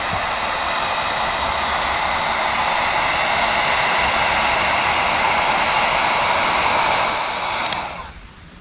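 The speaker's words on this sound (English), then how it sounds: "hair dryer's getting a workout today" A hair dryer blows with a loud, steady rushing hum for several seconds, then switches off and winds down.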